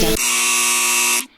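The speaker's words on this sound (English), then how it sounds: "So that buzzer means it's time to talk about Toyota, who gets the buzzer a lot." A loud electronic buzzer sounds once on a game-show-style panel about electric vehicles. It is a single steady, harsh tone that holds for about a second and then cuts off abruptly.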